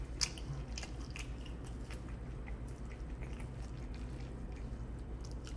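Someone eating a chipotle garlic guajillo steak bowl, with close, steady soft chewing and small crunches and moist squishes running throughout, no talk.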